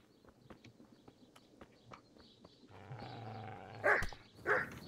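A dog in the medieval video game Kingdom Come: Deliverance gives two sharp barks near the end, preceded by rhythmic hoof-like footsteps and a low droning background.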